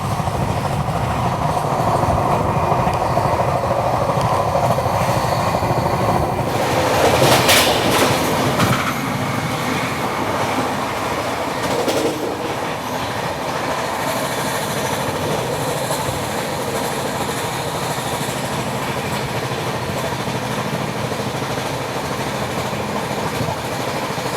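The Sachkhand SF Express, Amritsar to Nanded, runs at speed with a continuous loud rattling rumble from inside the coach, brief wheel squeals and rhythmic clickety-clack over the rail joints.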